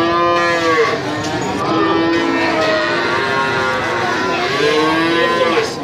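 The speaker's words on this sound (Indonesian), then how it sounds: "Sapi susu ini mas?" Dairy cows moo loudly and repeatedly nearby at a cattle market, long low bellowing calls overlapping one another.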